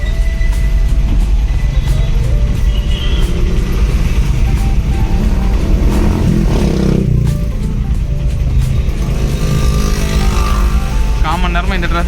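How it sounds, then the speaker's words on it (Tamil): Heavy road traffic jam on an Indian city road, cars and motorcycles idling and revving close by in a continuous loud rumble, with a brief engine rev and a horn-like tone near the end. "செம டிராஃபிக்கு. அங்கே வரைக்கும் நிற்கிது டிராஃபிக்கு."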